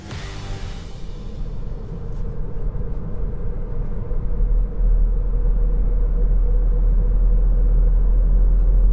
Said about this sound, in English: You start the car with an analog key.